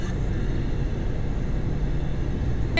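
Honda S2000 spinning its tires on radials at a drag race launch: a loud, steady broadband roar of engine and tire noise runs continuously throughout, with no voices.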